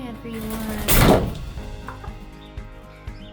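A chicken flying into a door on a farm, one loud close thump with a rattling burst, followed by a few faint knocks and a voice speaking quietly around it.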